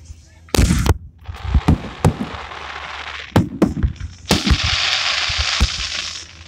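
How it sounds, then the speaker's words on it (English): Fireworks explode in a string of sharp, loud cracks and bangs at irregular intervals, some close together and some spaced out, with crackling hiss and crowd noise filling the gaps between bursts. "This may be the final fireworks."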